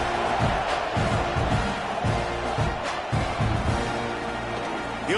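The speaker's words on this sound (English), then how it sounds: "this crowd is feeling themselves after that last drive" A stadium crowd roars steadily in the College Football 26 game during an Ole Miss vs Texas A&M matchup, a dense, loud wash of cheering with rhythmic swells and thumps throughout.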